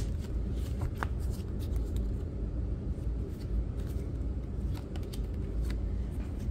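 Tarot cards are shuffled in a steady, rapid riffle, a soft papery flutter that carries on for several seconds, close by, with no talking.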